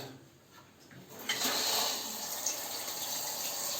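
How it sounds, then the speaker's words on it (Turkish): Water gushing to rinse a toilet bowl during cleaning, a steady splashing rush that swells after a quiet start and keeps flowing close by. "Şimdi güzelce yıkayacağız."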